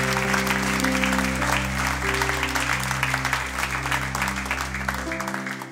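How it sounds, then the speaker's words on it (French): Church congregation applauding at a Sunday worship service, a steady dense wash of clapping that holds for several seconds under sustained organ or keyboard chords, then fades out at the end. "Est-ce qu'on peut applaudir Jésus pour ce qu'il fait énormément?"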